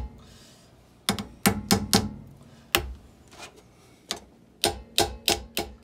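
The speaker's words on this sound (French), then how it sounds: "on donne des petits coups de marteau pour pouvoir le rentrer" A small hammer taps a part into place on a car's rear brake during a brake replacement: clusters of quick, sharp metallic knocks come in bursts with short pauses, close and clear.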